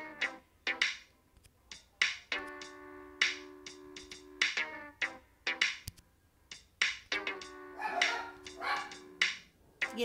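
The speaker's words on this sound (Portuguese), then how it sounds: "Ignorem meus cachorros." Dogs bark indoors in repeated sharp bursts, mixed with sustained whining or howling tones, loud and close, with no talk over them.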